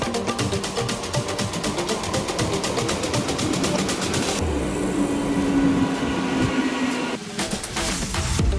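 Dum Dum Cantonment station's first local train gives a loud, continuous rumble with rapid rhythmic clacking of wheels over rail joints and a rising whine partway through.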